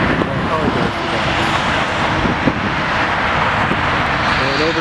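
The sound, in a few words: United Airbus 319 taking off at O'Hare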